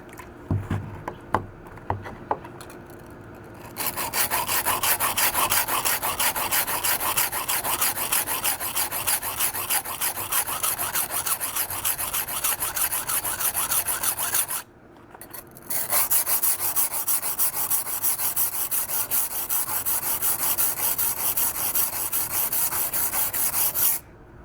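A kitchen knife with a 3mm damaged edge and tip is worked freehand on a wet whetstone in long, steady rasping strokes. The scraping runs continuously and close, with a brief pause partway through.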